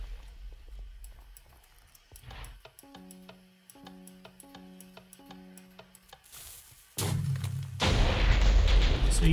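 Rhythmic ticking and electronic tones give way to a loud, heavy anti-aircraft cannon blast in the video game CityCraft that roars on through the final seconds.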